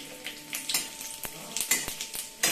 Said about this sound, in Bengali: তেল গরম হলে দেব শুকনো লঙ্কা তেজপাতা জিরে আর গোটা গরম মশলা